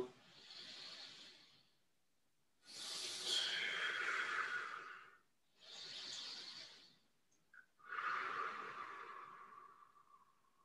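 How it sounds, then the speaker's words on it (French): Deep breathing during a kundalini yoga session at home: four long, fairly loud breaths, each a breathy rush lasting a couple of seconds, separated by short silent pauses, with no talking. "Approfondis tes respirations quelquefois."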